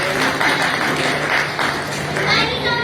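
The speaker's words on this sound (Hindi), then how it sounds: "उसके लिए जोरदार तालियां रोटरी क्लब।" Clapping crowd applauds the Rotary Club at a public event in Uttarakhand, a dense, steady patter of many hands lasting throughout, with a faint hum underneath.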